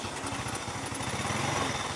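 A fuel-injected Honda EX5 motorcycle engine, just repaired after a broken coil wire, idles nearby with a steady, rapid putter and no voices over it.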